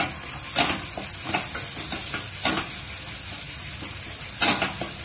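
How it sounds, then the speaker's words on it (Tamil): Onions sauté in a pan with a steady soft sizzle, joined by a few brief clanks and scrapes of stirring, heard alone at a low level. "ஆனியன் வணங்கிடுச்சு, அதை அப்படியே போட்டுட்டு வந்துடலாம்."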